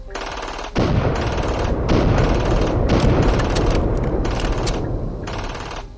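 A player character named Trevor fires a gun in a Unity-built GTA VI clone video game. A sudden burst of rapid, loud gunfire begins and continues as a sustained automatic volley for several seconds, slowly fading toward the end.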